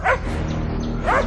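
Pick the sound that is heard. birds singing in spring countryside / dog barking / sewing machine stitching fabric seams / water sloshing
dog barking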